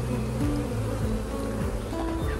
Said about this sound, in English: I think I've definitely got enough bees in here for this hive to be split.